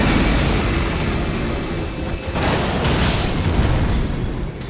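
A video game cannon fires and explodes in a sustained roaring blast, dense and loud, with a second surge of rumble partway through before it tails off.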